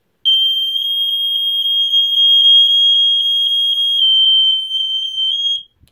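A BRK 79R or First Alert SA67D smoke alarm sounds a loud, piercing, rapidly pulsing electronic tone, about four beeps a second. It runs nearly the whole time, then stops abruptly near the end.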